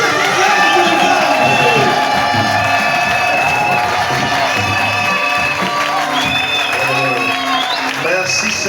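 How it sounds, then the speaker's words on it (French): A church congregation at an Assemblée de Dieu service in Kinzaou-Mvuete bursts into loud, sustained cheering and clapping, with shouts and whoops rising over the dense, close crowd noise throughout. "acclamons très fort."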